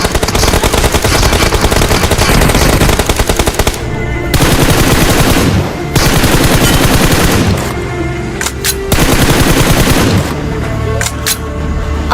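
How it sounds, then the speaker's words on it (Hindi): Automatic gunfire in the BGMI battle royale video game, sustained loud bursts of rapid shots with brief pauses between volleys, dense and continuous throughout. "थोड़ा फायर देता हूँ पर लगा नहीं इतना है।"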